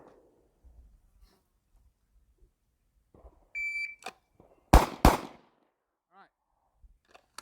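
Two Glock pistol rounds fired from the holster during a shooting drill, a pair of sharp, loud reports in quick succession, preceded by a shot-timer beep, with quiet surroundings otherwise.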